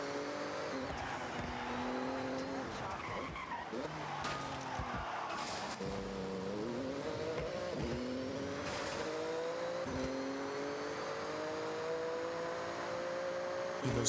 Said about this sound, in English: those turbos sound insane